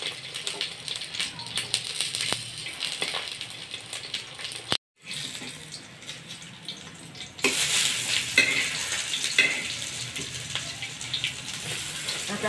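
Food frying and being stirred in a pan over a low gas flame: a steady crackling sizzle with scraping, a brief gap partway through, then a louder, brighter burst of frying.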